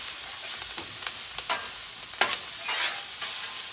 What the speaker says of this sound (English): So when the Blackstone gets nice and hot, we're going to put this corn, get some char on it over here.